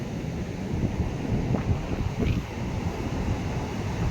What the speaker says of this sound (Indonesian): Terdengar ya deru ombaknya.